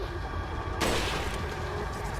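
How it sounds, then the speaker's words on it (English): A single sniper rifle shot in Resident Evil 4, a sharp sudden crack at close range followed by a fading tail over low ambient game sound. "It's an instant kill with a sniper rifle"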